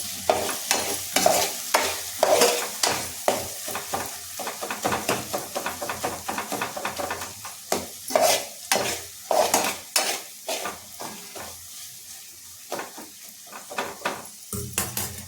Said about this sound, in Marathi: वाटणाला तेल सुटलं आहे, छानपैकी तेल सुटलेलं आहे.